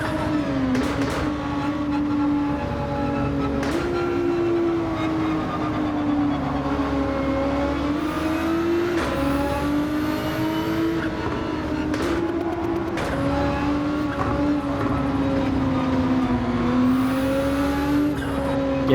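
Race cars in the Gran Turismo video game lapping Suzuka circuit behind a Lamborghini, engines droning loudly and continuously as revs rise and fall through gear changes, with occasional tire squeals.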